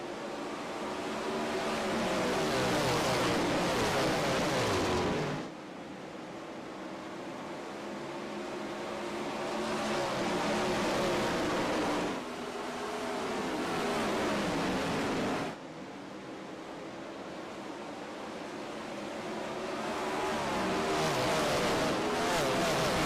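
Roar of POWRi 410 non-wing sprint cars racing on the dirt track at Knoxville, a loud sustained engine drone that swells and cuts in waves as the field passes, broken by sharp drops around laps.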